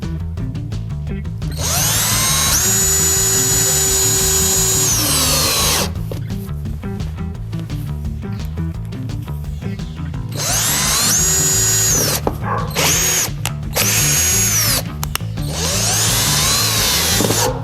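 A power drill drives screws into wood in several long whirring bursts separated by short pauses and quick trigger blips, loud and close, with no talking.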